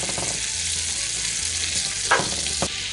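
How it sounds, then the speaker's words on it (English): Butter melting and sizzling in a frying pan before deer steaks go in, a steady close crackling hiss with a couple of sharper pops near the end. "so our butter is good and melted and sizzling pretty good"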